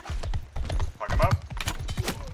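Horse hooves clatter in rapid galloping beats during a multiplayer battle in Mount & Blade II: Bannerlord, loud and close, with players talking excitedly over the pounding.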